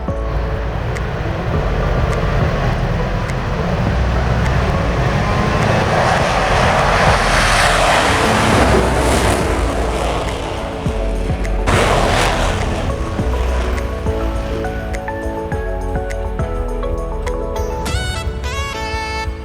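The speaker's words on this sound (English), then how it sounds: "Commander Brian calls off bricks now, burners ready now, and the Blue Angel Diamond is rolling." Blue Angels jets with afterburners lit roar past at an air show, a loud sustained rumble that swells to a peak mid-pass and then trails off with a lingering roar.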